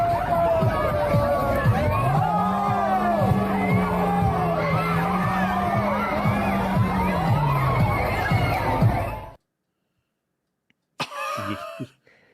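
Loud crowd of people at a zombie parade as a car drives into them, with dense chatter, shouts and a sustained vocal wail, then an abrupt cut to silence followed by a short burst of noise.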